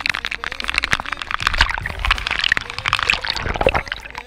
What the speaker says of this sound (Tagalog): tamang timba-timba na lang muna tayo para mabawasan natin yung tubig na nakarga sa bangka natin